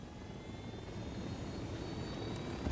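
A helicopter in Ghost Recon Wildlands flies with a steady, dense engine and rotor roar that holds level throughout, with a brief thump near the end and no talking.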